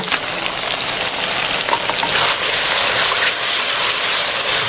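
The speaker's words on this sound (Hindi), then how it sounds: "तो 1-2 मिनट तक इसको हम भूनेंगे।" Mutton korma masala with whipped yogurt fries in a pot, a steady, dense sizzle and crackle that holds evenly throughout with no voices over it.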